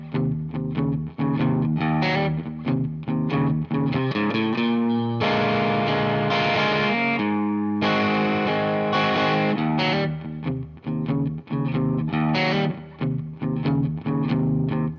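Electric guitar through distortion and chorus effects playing a blues riff, loud and close, with choppy repeated phrases and a couple of longer sustained chords in the middle.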